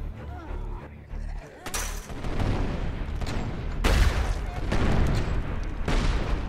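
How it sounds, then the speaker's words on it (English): Explosions and gunfire in State of Decay, with heavy booming blasts and cracking shots rolling over one another in a dense, continuous battle din that swells twice. "Lots of explosions."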